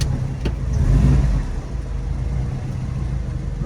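A Subaru Impreza WRX rumbles as it pulls away, a low steady engine drone with a slight swell in revs, fairly close and without talk.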